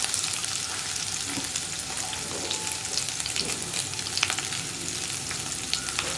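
Dried red chilies and curry leaves frying in a pan, a loud, steady hot-oil sizzle with light crackles and stirring, continuous and close throughout with no talking.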